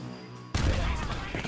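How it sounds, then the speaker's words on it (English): Cannons open fire in a toy-soldier American Revolution battle game, a sudden loud burst of booming reports that sustains into rumbling, crackling battle noise after a quieter lead-in. "The cannons are opening fire."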